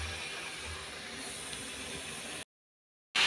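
Meat frying in a pan after its water has cooked off, giving a steady close sizzling hiss that runs unbroken for a couple of seconds before cutting out abruptly.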